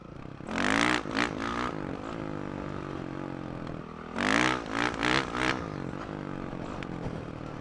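A four-stroke dirt bike engine revs in two bursts of blips while the rider holds a wheelie, with a steady engine drone running between the sharp throttle surges.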